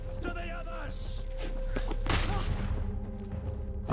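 Gunfire in the video game GreedFall, a few sharp cracks and a bigger burst of shots under game sounds, mid-level and brief.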